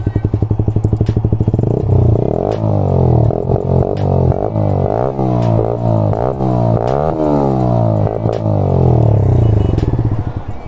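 Bajaj NS 125 motorcycle fitted with an Austin Racing full-system exhaust, idling with a loud, steady, uneven thump and several sharp blips of revving close by throughout.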